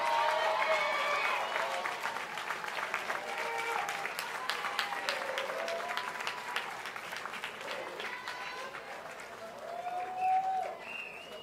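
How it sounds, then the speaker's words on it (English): Large graduation ceremony audience giving a sustained round of applause, a broad wash of many hands clapping with some scattered voices underneath, steady throughout and swelling slightly near the end. "give them a round of applause"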